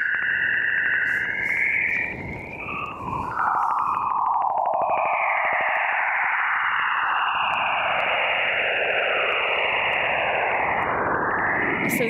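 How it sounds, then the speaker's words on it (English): Very low frequency radio emissions from Jupiter's auroras recorded by the Juno spacecraft, heard as eerie warbling, sweeping whistles and chirps over a constant hiss of static, continuous and fairly loud with no voices. "here's the call of Jupiter."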